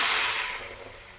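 Chopped vegetables hit hot oil tempered with dried red chilli, bay leaf and five-spice, giving a brief loud burst of hissing sizzle that quickly fades.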